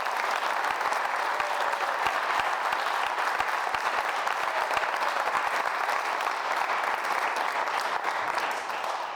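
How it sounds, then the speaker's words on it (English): An audience at a KPA evening event gives a sustained round of applause, a dense, even wash of clapping with sharp individual claps standing out, easing slightly at the very end. "So if y'all would give him one more round of applause."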